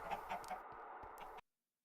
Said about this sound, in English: we've got so many chickens